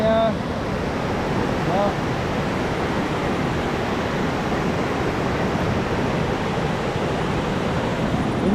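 Floodwater in a swollen river at a campsite rushes in a loud, constant roar with no break. Someone speaks briefly near the start over the flow.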